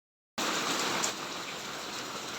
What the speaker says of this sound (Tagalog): Yan guys, lakas ng ulan.